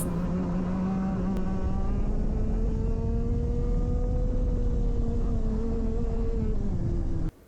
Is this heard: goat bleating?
no